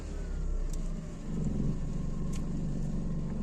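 A car driving along a country road, a steady low engine and tire hum from inside the cabin that swells slightly at times, continuous and moderately loud.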